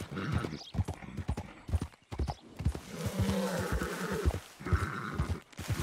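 A horse trotting in the western video game Red Dead Redemption II, steady rhythmic clip-clop hoofbeats up close with a brief whinny and snorting, continuous throughout.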